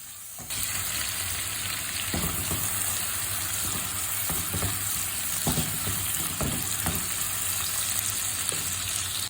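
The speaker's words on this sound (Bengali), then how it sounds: "চিংড়ি মাছগুলোকে আমি এখন ভালো করে ভেজে এখানে পেঁয়াজ কুচি দিয়ে দিব" Shrimp and chopped onion fry together in a pan, making a dense, continuous sizzle. Several sharp clinks and scrapes from stirring break through it.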